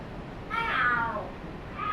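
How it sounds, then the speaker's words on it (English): A single drawn-out cat yowl in the video game Lost Judgment, loud and close, rising then falling over about a second, with a second yowl starting at the end. "are there cats fighting? What are they screaming for?"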